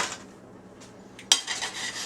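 Cooking pans for an omelet are handled on a kitchen stove: a few soft scrapes, then one sharp metallic clank as a pan is set down, followed by lighter rattling.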